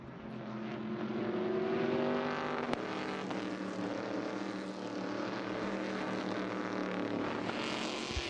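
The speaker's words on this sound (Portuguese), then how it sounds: "Pisando forte o carro número 7." A stock car from the Brazilian touring championship accelerates hard around the Cascavel circuit, a loud, sustained engine roar holding steady with a slight rise in pitch and a brief sharp click partway through.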